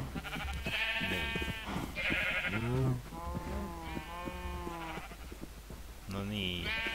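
Sheep in the Minecraft video game bleat repeatedly in wavering, overlapping calls, loud and close and almost continuous, while someone talks over them.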